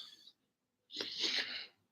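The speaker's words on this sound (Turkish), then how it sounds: "Soğuk aldım bir hapşırırım." A person with a cold sneezes once, loud and close, in a short burst after a brief silence, with a breathy intake beforehand.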